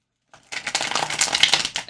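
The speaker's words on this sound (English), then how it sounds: "I just have to shuffle it. It's a little bit hard to shuffle." A gem oracle card deck is shuffled by hand, giving a quick dense run of crisp papery riffling and flicking that starts abruptly after brief silence, close and steady, with no talk.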